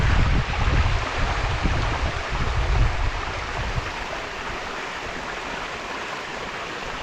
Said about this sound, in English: here is Dathlan waterfall for you, up close and personal